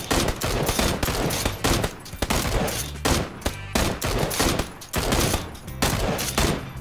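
Rapid gunfire in PUBG Battlegrounds, loud bursts of automatic and repeated shots cracking close in quick clusters with brief gaps, no talk over it.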